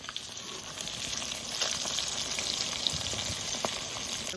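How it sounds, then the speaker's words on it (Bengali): Pieces of silver carp fry steadily in hot oil, a continuous close sizzle with small pops and crackles, no voices. "বড় মাছ তো একটু সময় নিয়ে ভাজতে হবে, ওই জন্য মাঝারি আছে জাল দিয়ে সুন্দর করে মাছ ভেজে নিয়েছি"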